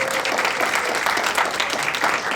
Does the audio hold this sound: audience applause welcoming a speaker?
yes